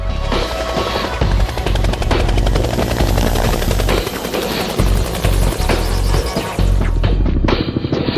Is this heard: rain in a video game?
no